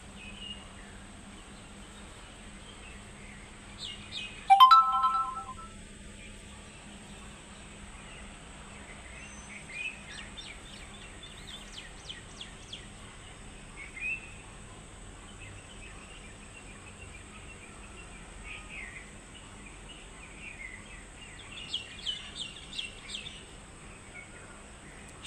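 Morning birdsong outside a balcony: scattered high chirps and short twittering calls, fairly faint and distant, with one louder nearby call early on and quieter bursts later over a steady low hum.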